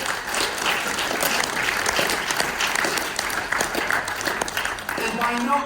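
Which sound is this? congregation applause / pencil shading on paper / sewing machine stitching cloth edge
congregation applause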